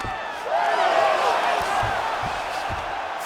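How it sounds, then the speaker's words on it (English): A crowd at a UFC strawweight championship bout roars and cheers as a fighter reverses position on the ground, a steady loud swell of voices over arena commentary. "Crowd goes crazy as she reverses the position."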